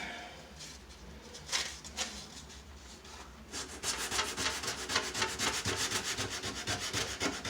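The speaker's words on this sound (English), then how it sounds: "Just may need to hit it with the sandpaper." Sandpaper rubbing by hand on a cabinet face frame during topcoat removal from inner edges, starting with a few scattered strokes and then settling into quick, steady back-and-forth scratching, close and moderately loud.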